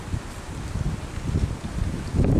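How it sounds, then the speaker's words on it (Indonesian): Strong gusty wind buffets the microphone beside the water during a fishing session, a continuous low rumbling roar that swells louder near the end, with no speech. "Karena angin saya kencang sekali"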